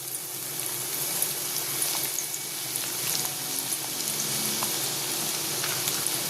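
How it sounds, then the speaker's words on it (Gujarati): Bitter gourd pieces fry in hot oil that was just used for cashews, making a soft, continuous crackling sizzle with scattered small pops and no talking. "બધા જ કારેલા આ રીતે ફ્રાય કરી લઈશું."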